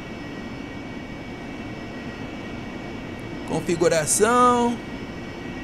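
A steady, even engine drone from the A8V aircraft in the DCS World flight simulator hums throughout, with a voice briefly speaking over it near the end.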